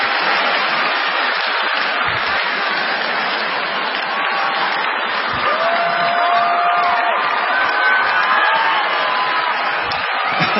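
A comedy show audience claps in a dense, sustained roar of applause mixed with scattered cheers and whoops, loud and continuous throughout.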